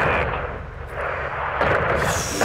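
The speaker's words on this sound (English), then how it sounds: "Seeing small arms fire from the gas station." Small arms fire crackles from a gas station in the Call of Duty: Modern Warfare 2 campaign, a dense, continuous roar of distant gunfire and battle rumble, loud throughout.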